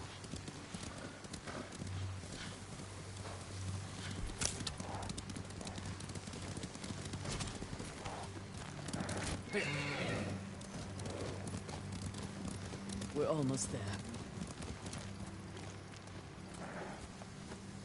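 Horse hooves clip-clop steadily through a Ghost of Tsushima game scene, a moderate continuous rhythm under ambient music with a brief spoken line and a horse snort near the end.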